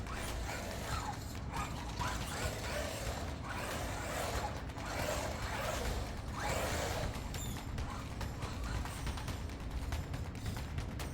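An Arrma Granite Grom RC truck runs at 75% throttle, a steady whirring and ratcheting drivetrain buzz with gear noise and creaks, continuous and fairly faint with no talking.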